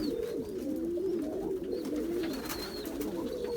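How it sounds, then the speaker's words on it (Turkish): Tumbler pigeons cooing softly and continuously in a coop, several overlapping low burbling calls close by, with faint higher chirps in the background. "Bir dönek kümesi burada var beyler"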